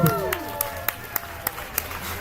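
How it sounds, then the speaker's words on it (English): A small audience claps for a bingo winner at a hall game, with sparse, evenly spaced claps ringing out in a steady rhythm over a faint room murmur. "You have to clap for people"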